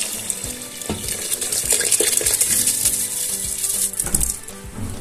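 Washed rice tipped into a pot of tomato mixture for Arabian palao, giving wet clattering, pattering and scraping sounds in irregular bursts, close and fairly loud.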